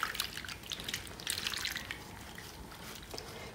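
Soap solution stirred in warm water for cleaning leather, a quiet, close sloshing and swirling of liquid with light splashy bursts, no talking.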